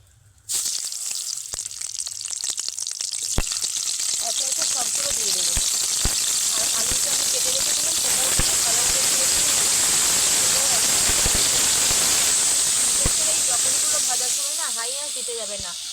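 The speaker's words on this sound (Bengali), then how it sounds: "তেলের মধ্যে কিছুটা হলুদের গুঁড়ো দিয়ে দিলাম এইবার ধুয়ে রাখা ব্রকলি দিয়ে দেবো" Broccoli dropped into hot oil with turmeric in a wok, giving a loud, steady hiss and sizzle that bursts in sharply and holds for most of the span, with scattered crackles and a faint voice near the end.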